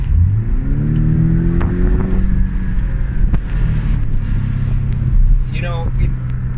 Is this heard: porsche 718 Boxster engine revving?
yes